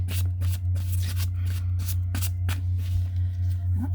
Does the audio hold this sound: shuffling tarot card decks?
yes